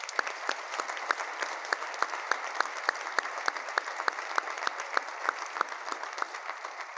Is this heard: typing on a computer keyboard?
no